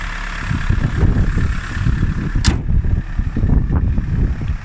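A 2012 Chevrolet Orlando LTZ turbo diesel idles close by with a steady low rumble and a faint rattly clatter, plus one brief sharp click partway through.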